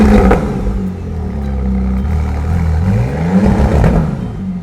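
A McLaren Artura hybrid V6 supercar starting up, a loud close whirring engine note that rises and swells with revving and a light mechanical clatter, no voices.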